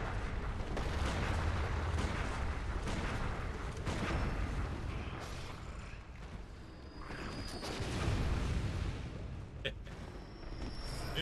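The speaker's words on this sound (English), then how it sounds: "Anytime I can get a blunderbuss kill, it's always a good time." Repeated heavy blunderbuss blasts from the Bloodborne video game in a Chalice Dungeon boom in a dense, rumbling barrage, loud and layered with combat noise throughout.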